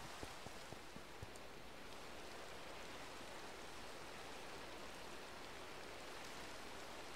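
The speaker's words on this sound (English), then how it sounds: "I'm going to sleep and get rid of this rain" Steady, faint rainfall in the Minecraft video game, a soft continuous hiss with no talking over it.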